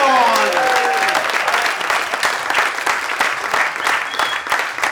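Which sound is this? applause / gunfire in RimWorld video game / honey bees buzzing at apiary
applause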